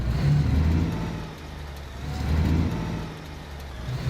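A truck in the driving game Alaskan Road Truckers pulls away, its low engine rumble rising and falling steadily while the motor drones on, close and moderately loud, with no talking.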